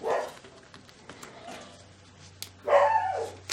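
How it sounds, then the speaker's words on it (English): A puppy yips twice indoors, a short bark at the start and a longer, higher yelp near the end, with quiet room noise and a low hum between. "Oh, can you hear my puppy?"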